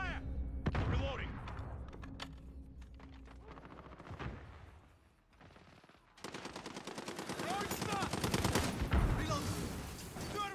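Video game firefight with bursts of rapid automatic gunfire and single shots, close and loud, pausing briefly midway before dense volleys resume, with a player's voice talking over it.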